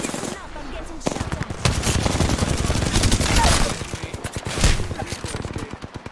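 Rapid automatic gunfire in Apex Legends, loud dense bursts of shots that swell and fade, with players talking over the fight.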